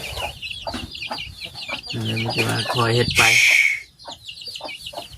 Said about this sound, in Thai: ไก่ก็หลายตัวเนาะ